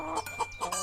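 A hen clucks in a quick run of short, close, fairly loud calls, several bursts packed into under a second with no other sound.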